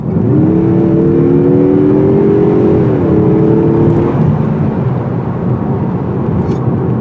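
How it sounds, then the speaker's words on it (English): A 2021 Mazda 3 Hatchback with its turbo engine accelerates hard, a loud, close engine drone whose pitch climbs steadily and then drops with a shift, carrying on over continuous road and wind noise. "with this very powerful engine, you have plenty of ability to accelerate"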